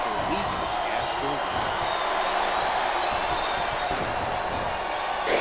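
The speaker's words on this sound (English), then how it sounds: "This capacity crowd is making their opinions heard tonight." Arena crowd noise from the WWE Smackdown Vs Raw 2008 video game, a steady broad roar of cheering and chatter that holds at an even level throughout, with commentary voices woven underneath.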